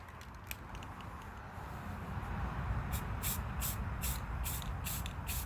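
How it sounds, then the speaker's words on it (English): A can of Rust-Oleum Ultra Cover Gloss Grape spray paint hisses as a pumpkin is coated, a steady close-up spray. Short rattling bursts sound near the end. "I'm going to use the Rust-Oleum Ultra cover, and this one is called Gloss Grape. So let me begin my spraying."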